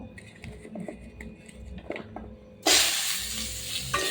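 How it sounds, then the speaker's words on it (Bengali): Drumstick stalks and potatoes hit hot oil in a wok just used for frying tilapia, bursting into a loud, sustained sizzle partway through after quieter clinks and stirring. "এই কড়াইতেই আমি ডাঁটা আর আলু দিয়ে দেবো।"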